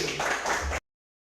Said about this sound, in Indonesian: Tepuk tangan buat Sugi.